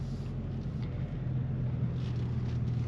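Steady low exhaust drone from a Subaru WRX fitted with a Greddy RS Race catback, heard from behind the car at idle or light throttle, constant and fairly loud with some wind noise and no talk.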